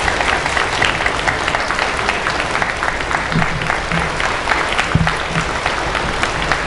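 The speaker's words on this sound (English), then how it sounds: "a big round of applause for Mr." Steady, dense applause from a Veterans Day audience honoring a Navy Seabees veteran fills the room at full volume throughout, with faint voices mixed in.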